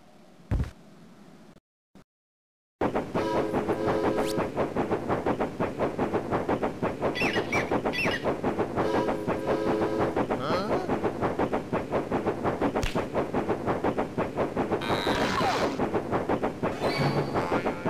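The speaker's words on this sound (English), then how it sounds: "Here comes the train." A train arrives in the 3 Skulls of the Toltecs adventure game with a steady rhythmic clatter and chugging that starts abruptly after a brief quiet, running loud and continuous with occasional hissing and clanks.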